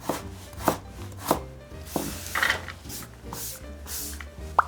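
A kitchen knife taps steadily on a cutting board as vegetables, laid flat side by side, are sliced thinly for a vegetable-rich Chinese-style rice bowl, a close rhythmic chopping with no voices.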